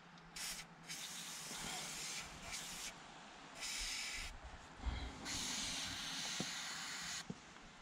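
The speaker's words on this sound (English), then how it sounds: "this little spray can, um, battery terminal protection spray" A can of battery terminal protection spray hisses in several short and longer bursts, close by, with faint handling clicks between sprays, while coating diesel pickup truck battery terminals.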